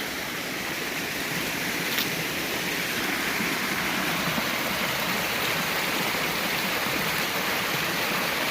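Cold spring water flowing out from under trees and rocks in a mountain village valley, a steady close rushing wash of water, continuous and unbroken, no voices.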